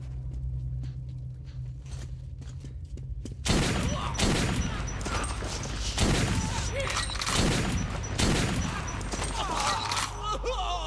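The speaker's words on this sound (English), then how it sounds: "Perfect use of shotgun" Shotgun blasts in the video game Metro 2033, several loud heavy booms spaced a couple of seconds apart after a quieter stretch, with echoing decay and clattering game sounds between them.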